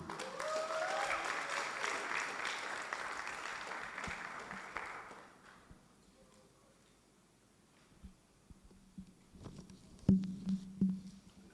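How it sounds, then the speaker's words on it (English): A conference audience gives a round of applause to a speaker. The clapping is brisk and fairly quiet, holding for about five seconds before it dies away, leaving faint scattered taps and room noise. "A big round of applause for Southern Africa Trust, Mr. Raymond Mchemwa."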